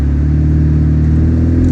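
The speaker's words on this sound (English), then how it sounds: "build some revs" A BMW 1 Series E88 120i M Sport held in manual shift mode builds revs, its engine droning loud, steady and close with a deep rumbling hum and no talk over it.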